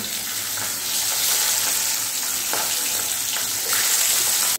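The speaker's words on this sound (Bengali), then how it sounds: "ওই একই রকমভাবে সবগুলো মাছ ভেজে নিতে হবে" Pabda fish pieces fry in hot oil in a home kitchen, giving a loud, steady sizzle that runs throughout, with brief clinks and stirring noises and a swell near the end.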